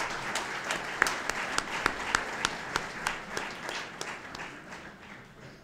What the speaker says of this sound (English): can you all just give yourself an applause for the donations that you made?